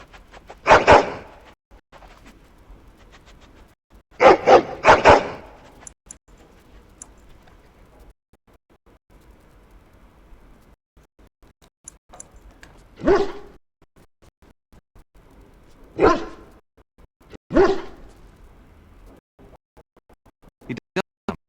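Dog in the video game Dragon Age: Origins barking in separate short bursts, single and double woofs spaced several seconds apart over quiet, with faint ticking between.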